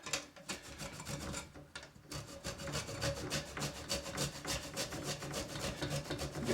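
Unpeeled fresh ginger root from the supermarket being cut up into small bits for homemade ginger beer, a steady run of close, rhythmic cutting strokes with no talking.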